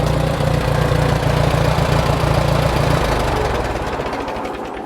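A tractor engine idles with a close, steady knocking chug. Near the end it is shut off, and the beat slows and fades out.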